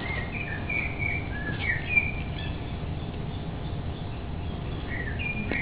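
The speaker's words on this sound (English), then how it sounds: "Let's see what a blackbird." A recorded blackbird sings fluting, warbling phrases in short bursts, clear but moderately soft over a steady hiss, with no talk.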